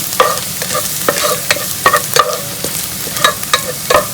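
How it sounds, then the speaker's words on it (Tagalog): Sauce sautéing in a pan with stirring: irregular scraping and clinking strokes over a steady low sizzle, close and moderately loud, with no voices. "Gisa na tayo ng sauce."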